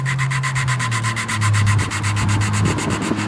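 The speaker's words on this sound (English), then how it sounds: "And we got that lapping compound in there." Engine valves on a Honda Civic being lapped by hand with lapping compound, a steady gritty rubbing and grinding that goes on without pause, close and fairly loud, with no voices.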